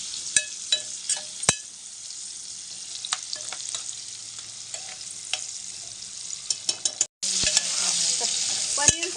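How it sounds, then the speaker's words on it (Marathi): Onion frying in a pan sizzles steadily while a utensil scrapes and taps against the pan in irregular strokes, with a brief break and then a louder sizzle near the end. "कांदा चांगला फ्राय करायचा आहे"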